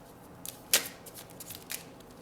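Tarot cards riffled and drawn from a deck during a reading, a few soft papery flicks and one sharp slap of a card, close and quiet, with no talking.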